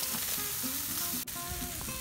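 Cevapcici kebabs sizzle on a hot grill, a continuous crackling, spitting hiss, close and even, with a small sharp tick partway through.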